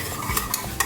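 Macaroni cheese mixture being stirred in a pot, a spoon scraping and squelching in a few quick strokes, close and fairly quiet, with no talking.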